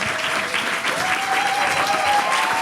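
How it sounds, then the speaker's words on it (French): An audience applauds stand-up comedy performers returning to the stage at the end of a comedy night, a dense sustained burst of clapping with faint cheers mixed in. "je vais vous demander s'il vous plaît de faire un tonnerre d'applaudissements pour réaccueillir tous les artistes de cette soirée"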